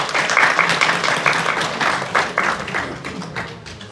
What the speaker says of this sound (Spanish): aplausos para Samantha que acaba de firmar